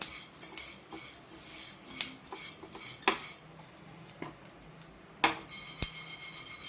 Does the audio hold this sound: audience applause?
no